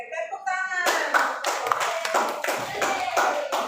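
A class of junior high students claps their hands together, with a short burst of dense, close claps that follows a brief spoken voice.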